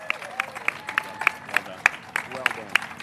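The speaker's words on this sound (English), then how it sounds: "Let's give a big round of applause to our mayor" An outdoor crowd at Diversity Plaza in New York City applauds Mayor Bill de Blasio with scattered, moderately loud claps that carry on beneath an overlapping voice.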